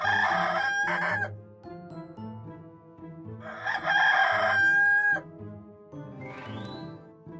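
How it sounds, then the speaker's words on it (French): A rooster crows twice, loud and close, over a soft, steady musical backing, followed by a brief shorter call near the end. "Coq."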